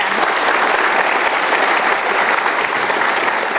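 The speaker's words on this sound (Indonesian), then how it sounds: "Boleh dong tepuk tangan untuk Romi 10." Studio audience applause for the candidate Romi 10 on an Indonesian political talk show, a dense, steady wash of clapping from a large crowd that holds at full strength from start to finish, with no talking over it.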